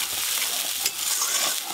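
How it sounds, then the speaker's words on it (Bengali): Finely chopped onions fry gently in oil, a close, steady hiss and crackle that continues evenly throughout without talk. "একদম হালকা করে ভাজবো"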